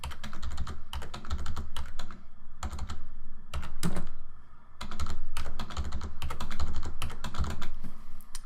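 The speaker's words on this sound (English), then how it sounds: "And then type in the IPs of those hosts." Computer keyboard typing IP addresses of server hosts, bursts of close, crisp keystrokes in quick runs separated by short pauses, alone without talking.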